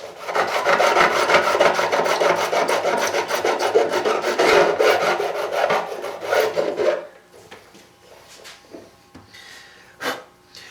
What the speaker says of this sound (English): The ends of the frets were sticking out a little bit, so I'm rounding them off on the ends